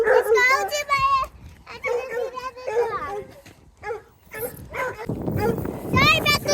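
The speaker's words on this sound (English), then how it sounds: "Sorry about the barking." A dog barking on a farm, sharp yips and barks mixed in with a voice and chatter, close and fairly loud.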